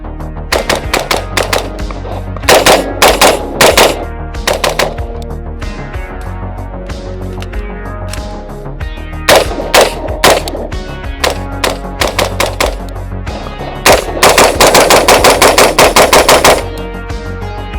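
An Anderson Manufacturing AM-15 rifle is fired at an outdoor shooting range. Loud, close shots come in quick strings and bursts, separated by short pauses, and end in a long rapid volley.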